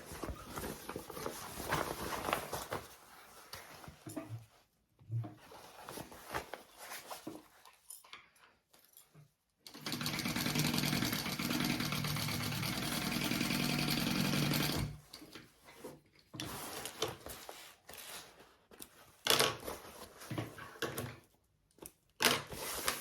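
A sewing machine stitches a nested seam in fabric in several bursts of whirring, the longest a steady run of about five seconds, with pauses and light handling noises between runs and no talking.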